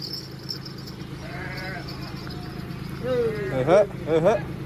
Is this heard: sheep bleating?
yes